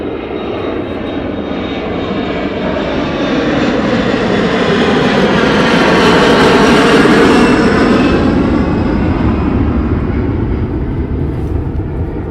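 An aircraft engine roars steadily at East Midlands Airport, a loud broadband rumble that swells toward the middle and eases slightly, heard alone with no voices.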